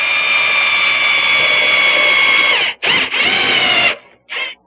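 A power drill bores to enlarge a hole in a wooden Windsor chair post: one long, loud, steady whine that stops briefly, runs again, then ends with a short final burst.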